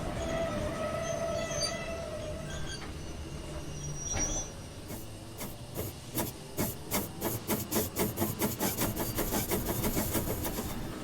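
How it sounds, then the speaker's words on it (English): A Y1 Sentinel steam locomotive in Train Sim World 2022 first hisses and rumbles, then begins chuffing in sharp rhythmic exhaust beats that quicken and grow louder, close and with no talking. "the chuff sounds are pretty much spot on, and yeah, the overall like sound of the engine is very well made"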